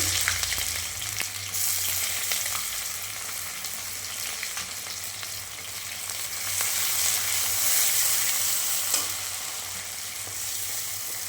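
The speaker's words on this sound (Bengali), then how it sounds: "একটু ভাজা হোক পেঁয়াজটা।" Chopped onion frying in oil with nigella seeds in a wok, a steady close sizzle with occasional stirring clinks and scrapes that swell slightly toward the middle.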